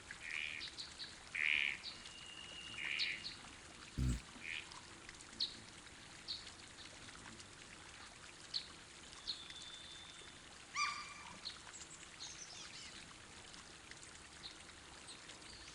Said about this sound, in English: enjoying some birds and some other animal noises